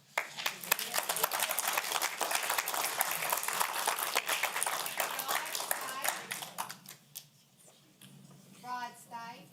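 Crowd at a county council meeting claps loudly for several seconds in sharp, dense bursts, then the clapping thins out and a voice begins speaking near the end.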